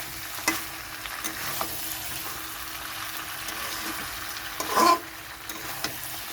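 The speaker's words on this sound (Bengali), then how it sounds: "আমার চিকেনটা কষানো হয়ে গেছে, দেখুন তেল ছেড়েছে" Chicken being fried down in oil in a wok, a soft continuous sizzle with occasional scraping stirs, one louder stir near the end, no voices.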